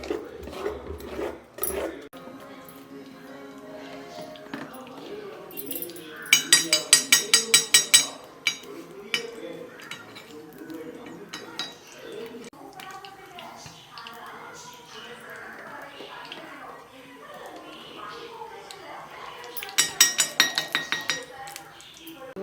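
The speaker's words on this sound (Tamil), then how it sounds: "நல்லா இது வெல்லம் தேங்காய் எல்லாமே கரையணும். நல்லா மிக்ஸ் பண்ணிக்கணும்." Jaggery and coconut paniyaram batter is stirred in a bowl, with repeated scraping and two bursts of rapid metallic clinking from a spoon against the bowl, close by, while a person talks throughout.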